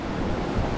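Ocean swell and waves wash steadily around a 33 ft sailboat on an Atlantic crossing from Lagos, a continuous broadband rush with wind noise, no talking.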